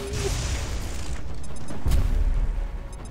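A grenade blows up during a base defense mission in the X-COM Enemy Within video game, a sharp boom with a rumbling tail near the middle, set against a steady game background.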